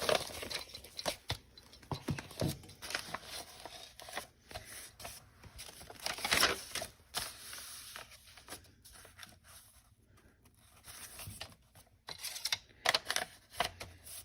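Scissors or a paper cutter trimming paper to size for a lunch-bag mini journal, giving soft, close, intermittent snips and papery rustles at low volume, with no talk.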